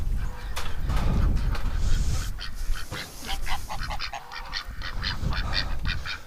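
Farm ducks in a windy winter outdoor setting give a series of repeated honking, quacking calls from about four seconds on, over steady broadband wind noise, with earlier low rumbling gusts.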